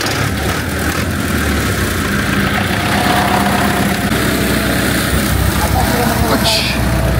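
A tractor engine idling in a rural Sakha village, a constant low droning rumble that stays close and loud throughout, with no breaks and no voices over it.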